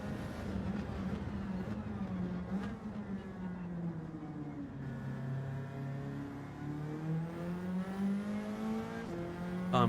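Race car engine in Gran Turismo 7 revving high and shifting through gears, the pitch dipping and climbing again in a continuous loud drone with no voices.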